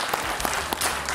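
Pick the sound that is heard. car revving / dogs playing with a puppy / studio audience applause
studio audience applause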